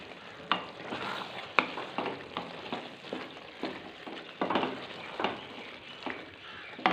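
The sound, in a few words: stirring kasuri methi into frying capsicum and potatoes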